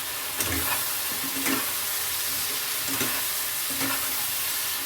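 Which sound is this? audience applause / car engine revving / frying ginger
frying ginger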